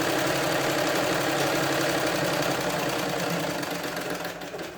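A treadle sewing machine stitching a blouse runs steadily and loudly on its own, a continuous mechanical whir and rattle with a rhythmic knocking underneath that eases off slightly at the end.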